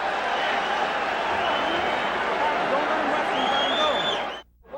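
Large boxing crowd in England at a 1989 heavyweight title fight between Frank Bruno and Mike Tyson roars in a loud continuous wash of cheering at the end of a round, with an announcer's voice audible over it.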